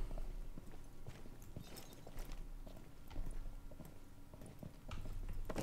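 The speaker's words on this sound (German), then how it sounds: "Hör ich auch Schritte?" Hollow footsteps clatter steadily during a Rainbow Six Siege match, an irregular run of hard thuds and scuffs over muffled in-game ambience, close and fairly loud.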